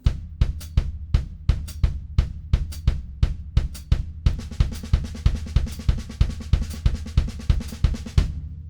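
Drum kit playing a nines pattern, with the bass drum taking over the right-hand strokes: steady repeating groups of sharp hits over low kick thumps, a sparse pattern that fills into denser cymbal-washed strokes partway through, close and loud.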